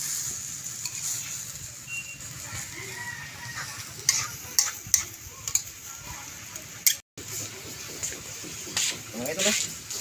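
Chicken intestine skewers (isaw) cook at an outdoor fiesta with a soft sizzle and scattered ticks and clinks, all under nearby talk.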